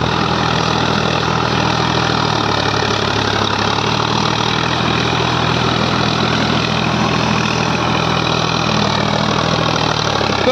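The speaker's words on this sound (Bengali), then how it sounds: "প্রচণ্ড কাঁপছে, প্রচণ্ড রোটার কাঁপছে। শক্তিমানের 72 ব্লেডের রোটার দেওয়া হচ্ছে।" A Sonalika RX 50 4WD 52 HP tractor driving a Shaktiman 72-blade rotavator that vibrates heavily, producing a loud, constant engine drone and broad mechanical roar that holds unbroken throughout, with no voices.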